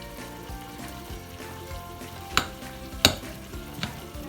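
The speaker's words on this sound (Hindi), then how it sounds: "ये सारे के सारे मसाले सबको मैश कर लेते हैं।" Cheese and spices are mashed together for a chicken cheese doughnut filling, giving soft rhythmic squelching strokes with a few sharper clicks against the bowl, quiet and close, with no talk.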